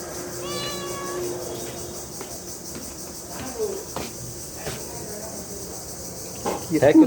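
A cat meows once near the start with a clear, tonal cry. Steady insect chirping fills the background, and a few soft rustles and bumps follow, growing a little louder at the very end.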